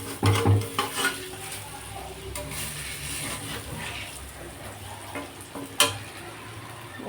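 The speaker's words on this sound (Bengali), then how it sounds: "এখন এই যে এতটা রয়েছে ভাজা করে নিই" Food fries in a pan with a constant sizzling hiss, punctuated by close scraping and metallic clatter of a utensil stirring and knocking against the pan, no talking.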